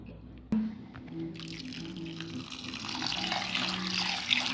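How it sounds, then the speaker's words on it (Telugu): Soaked rice and urad dal are washed in water for dosa and idli batter, with running tap water and close splashing and sloshing building steadily after a sharp knock. "ఇలా రెండు మూడు సార్లు వాష్ చేసుకోవాలి అదే బియ్యాన్ని కూడా రెండు మూడు సార్లు వాష్ చేసుకోవాలి"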